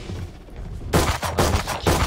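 Rapid gunfire in Valorant, quiet at first, then loud sharp shots cracking out in quick bursts of two or three close together after a short lull.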